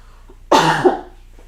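A single sharp, close cough bursts out of near silence and ends quickly.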